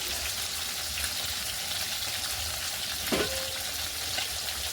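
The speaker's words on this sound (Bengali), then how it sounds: "মাছগুলো ভাজা করতে দিয়ে" Fish fries in a pan with a steady, close, dense sizzle throughout, broken once by a brief knock or clink midway.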